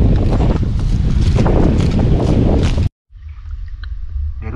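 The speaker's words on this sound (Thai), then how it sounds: "ลมแรงมากทุกคน" Strong wind buffets the microphone near a river, a loud continuous roar for about three seconds that cuts off abruptly, followed by quieter muffled rumbling.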